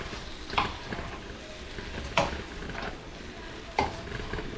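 Binagoongan is stirred with shrimp paste in a sizzling pan, three distinct scraping strokes of a spoon spaced over a continuous frying hiss, heard up close with no voices.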